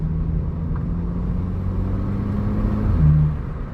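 A 2016 VW Polo GTI with a 1.8 TSI turbo engine and DSG gearbox drops into second gear, its steady low engine drone rising slightly in pitch and loudness near the end, heard from inside the cabin.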